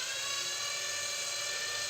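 A power drill bores a 10 mm deep hole into a wall to hang artwork, giving a steady, continuous high-pitched whine with no pauses and no speech.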